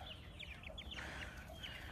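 Several chickens cluck and chatter in short, repeated calls over a steady low rumble of farmyard noise.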